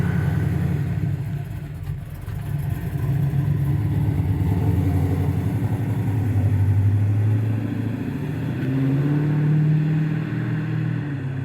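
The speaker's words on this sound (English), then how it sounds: "Good sounding truck." 2007 Chevy Silverado truck engine revving nearby, a loud steady low rumble that swells and eases through several long revs.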